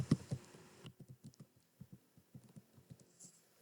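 A file name being typed on a computer keyboard while renaming a Jupyter notebook, a quick run of soft, muffled key taps in uneven bursts, close and quiet, after a brief louder rustle at the start, with no talk.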